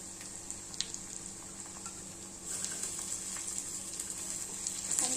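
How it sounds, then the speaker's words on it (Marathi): Tomatoes hit hot frying onions in a pan, and a faint steady sizzle swells noticeably midway and keeps hissing quietly alone to the end. "आता आपण टमाटर टाकून घेऊया."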